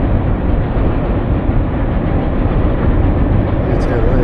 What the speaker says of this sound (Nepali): त्यहाँ माथि ट्रेन गइरहेछ है,